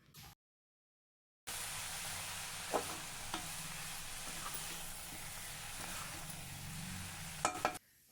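Mashed boiled chana dal being sautéed with banana flower and spinach in a pan, a steady soft sizzle with a few sharp scrapes of the spatula, after a brief silent gap at the start.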